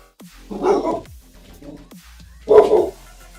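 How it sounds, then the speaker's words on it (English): A dog barks twice, loud and close, with a gap of about two seconds between the two barks and a fainter soft bark or whine in the middle. "Doggo Dog has awoken."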